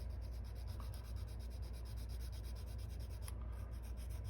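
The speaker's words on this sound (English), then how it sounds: "Just sand that line out of there" A part from a Salvinos JR plastic model kit of a 1979 Oldsmobile 442 is sanded with a steady, faint scratching rub. A short louder scrape comes near the end.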